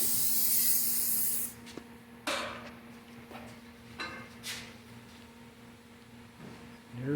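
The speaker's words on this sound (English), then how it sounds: "This is just a silicone spray." Silicone spray hisses onto a tire being mounted on a rim: one long, close spray burst, then several short, sharp puffs spaced a second or so apart.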